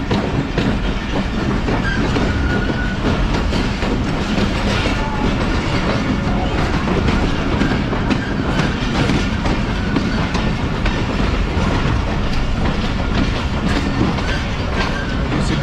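The 40DN Jaffar Express passenger train runs on rails toward Sibi Junction in Balochistan, a loud, steady roar with rhythmic clickety-clack of wheels throughout and no voices.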